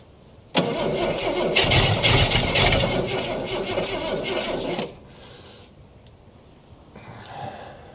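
A 1968 Ford Falcon with a Stromberg carburetor, choke on in the cold, cranks and catches into a loud rough roar for about four seconds, then drops to a much quieter, uneven idle with faint sputters.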